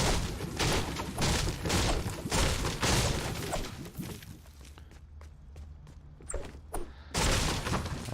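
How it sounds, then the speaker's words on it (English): Wooden furniture being smashed apart in the Fortnite battle royale game, a string of sharp repeated thuds and crashes in quick rhythm, loud and close, with a quieter stretch partway through. "I like destroying the furniture."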